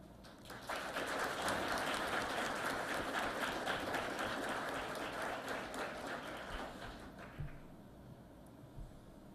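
Audience at an anniversary ceremony for the IPMT breaks into sustained applause, a dense rattle of many hands clapping that swells, holds for several seconds, then thins out toward the end.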